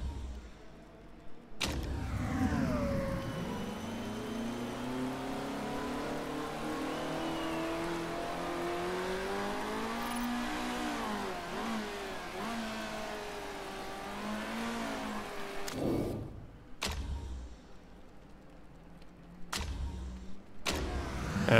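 Race cars leaving the pits one after another in the racing management game Motorsport Manager, engines revving and rising in pitch as they pull away, a sustained whining drone broken near the end by a few quick gear changes and bursts.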